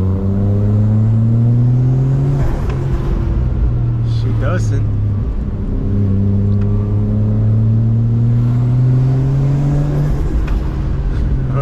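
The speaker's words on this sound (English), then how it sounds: "First drive around the block with an intake and full exhaust." A car with a 1JZ engine, intake and custom full exhaust drives around a block, its loud engine note rising and falling through several gear pulls, while a person speaks briefly.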